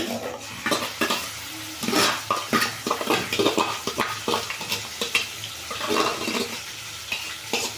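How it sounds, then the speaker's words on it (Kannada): Onion paste for soya gojju fries in hot oil with a loud, busy sizzle. Repeated stirring scrapes and knocks of a utensil against the pan run through it close up. "ಈಗ ಇದು ಕಾದಿದೆ ನಾನು ಈರುಳ್ಳಿ ಪೇಸ್ಟ್ ಹಾಕ್ಕೊಳ್ತಾ ಇದ್ದೀನಿ"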